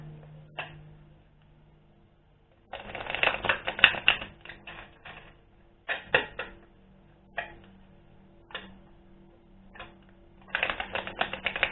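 Tarot cards shuffled by hand, a series of close crisp riffling and flicking bursts with short quiet gaps between them, no talking.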